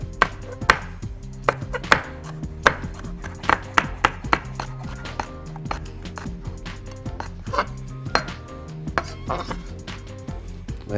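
Peppers are chopped with a knife on a board for a spicy chicken salad, giving a quick, irregular series of sharp close knocks and taps with some clinking of kitchenware, and no talking.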